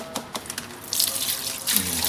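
Water runs and splashes from a tap while a box fan is rinsed during washing, a brief pour lasting about a second and a half after a few soft knocks.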